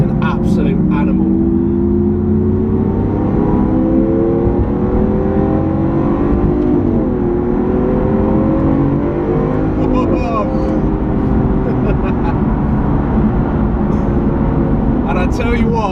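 A Lamborghini Aventador SV's engine pulls hard under throttle, a loud continuous roar with rising harmonics as the car gathers speed from inside the cabin; someone talks over it throughout.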